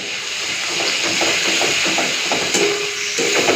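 A splash of water added to a pan of frying spices, including red chilli powder and Kashmiri chilli powder, for paneer khichuri, giving a steady close sizzling hiss with faint clinks.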